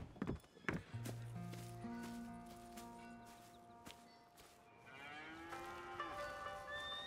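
Cattle in Red Dead Redemption 2 moo in long, drawn-out calls, several overlapping, with a lower bellow near the end; distinct and fairly close over quiet background sounds.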